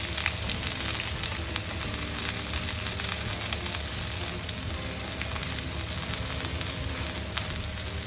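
Chicken thighs fry in a pan on a stovetop, giving a steady, loud sizzle that holds for the whole stretch with small crackles and pops and no voices.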